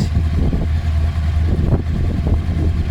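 A Suzuki GSX-R SRAD motorcycle engine idles nearby with a steady low rumble and slight fluctuations, loud and continuous with no talk.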